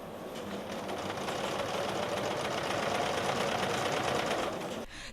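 A sewing machine runs steadily for about five seconds while women sew balaclavas for soldiers, a continuous fast mechanical whirr and needle clatter that stops abruptly just before the end.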